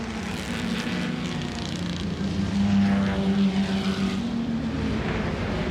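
Historic racing cars at the Goodwood Revival roar past on the circuit through the kink, a loud engine drone that swells and peaks mid-pass before easing slightly, with no voices.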